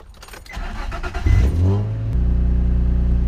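A car engine cranks and catches, then settles into a steady, close idle hum after a brief rev, recorded with an OBD2 Bluetooth scanner plugged in.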